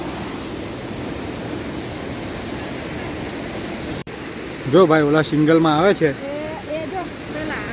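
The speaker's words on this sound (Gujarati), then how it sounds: "અહીંયા જે છે એ ધોધ છે" A waterfall at a river rafting site near the Statue of Unity gives a steady, broad rush of water throughout, with people talking loudly over it in the second half.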